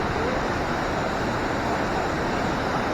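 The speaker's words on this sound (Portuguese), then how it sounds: "Aqui é perigoso, tromba d'água." A dangerously strong, swollen waterfall in flash-flood conditions at Cachoeira Imbiruçu, Minas Gerais, roaring as a steady, loud broadband rush of churning water with no break.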